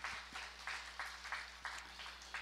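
A church congregation applauding at a Christmas Day Sunday service to welcome a guest, light, fairly faint clapping in a loose rhythm of about a dozen claps.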